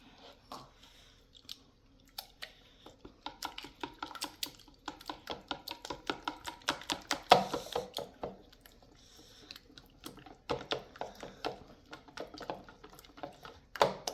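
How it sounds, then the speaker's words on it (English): Condensed milk and regular jug milk are stirred together in a bowl, giving a long run of quick, wet clicks and squishy taps, close and fairly quiet, with no talking. "So I'm just going to give this a good stir, good mix"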